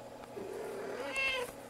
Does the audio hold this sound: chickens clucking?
no